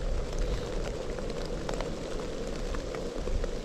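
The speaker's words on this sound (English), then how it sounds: "The rain. Pouring rain." Heavy rain pouring steadily in woods, a dense close hiss with scattered drips and patters on leaves, no voices.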